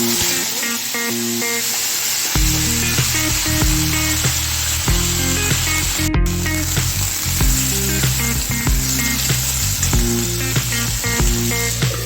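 Cut pumpkin pieces fry in oil in a wok, a loud, dense, continuous sizzle with scraping stirs of a utensil against the pan, close up and with no one talking.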